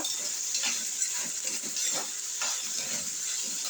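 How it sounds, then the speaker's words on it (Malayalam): Ginger, garlic, curry leaves, onion and tomato are stirred in a hot pan, with a steady sizzle and hiss under repeated scraping strokes of a spoon, close and moderately loud. "നന്നായിട്ട് ഇഞ്ചിയും വെളുത്തുള്ളിയും കറിവേപ്പിലയും സവാളയും തക്കാളിയും നന്നായിട്ട് മിക്സ് ചെയ്ത് കൊടുക്കുക."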